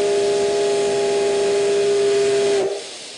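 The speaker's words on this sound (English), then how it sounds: "A steam locomotive runs through the hills of Iwate Prefecture." A steam locomotive running through the hills of Iwate Prefecture lets out a loud, sustained steam whistle with a hissing edge, held steady for nearly three seconds before cutting off into quieter hiss.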